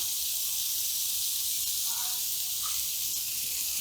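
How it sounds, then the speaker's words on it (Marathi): Onion and coriander sizzling in Amul butter in a pan, a steady soft hiss throughout with a faint brief crackle near the middle, close and continuous with no talk. "इथे मी एका पॅनमध्ये थोडंसं अमूल बटर घातलेलं आहे, थोडासा कांदा, कोथिंबीर"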